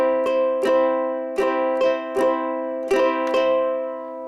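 Ukulele country eighth-note strum with the upstroke catching only the two strings nearest the floor; seven crisp, evenly paced strums ring out close and alone.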